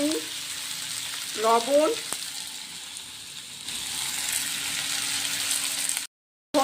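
Potatoes and onions fry in a pan with a continuous sizzling hiss, and a voice speaks briefly early on, followed by a short stretch of silence near the end.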